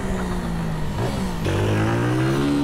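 Motorcycle engine in GTA San Andreas, a 250 cc bike fitted with MT-03 parts, droning steadily and loud, its pitch dipping around one second and then rising as it revs up again through a gear change.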